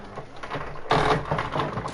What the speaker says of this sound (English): is the sound of vibration being on my wheel.